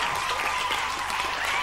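Loud, sustained applause from a studio audience at a 1995 German children's TV contest, dense and even throughout with no gaps.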